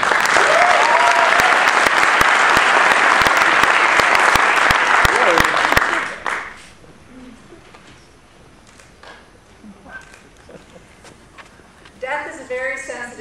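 An audience at an Ignite talk event bursts into loud, dense applause that carries on for about six seconds before fading to quiet room tone, with some talk resuming near the end.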